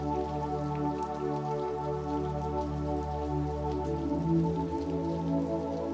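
Slow, steady rain falls on a surface in a continuous soft patter, with a low steady hum beneath it and no voices.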